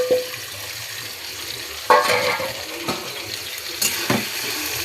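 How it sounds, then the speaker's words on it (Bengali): Raw chicken tipped into a pan of sizzling browned onions for chicken curry, giving a sudden loud burst of frying at about two seconds, with further sharp hisses and clatters as more goes in over a steady background sizzle. "চিকেনটাকে এই পেঁয়াজের মধ্যে ঢেলে দেবো"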